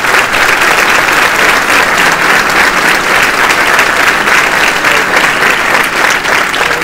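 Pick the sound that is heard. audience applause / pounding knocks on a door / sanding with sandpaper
audience applause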